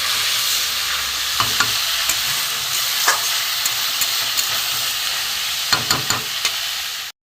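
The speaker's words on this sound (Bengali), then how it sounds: "এবার আমি কষে নেব, ভালো করে কষিয়ে নিই।" Banana flower and chickpeas sauté in a pan for a vegetarian mocha ghonto, a steady close sizzle running throughout with occasional scrapes and clinks of a spatula stirring, then cutting off abruptly.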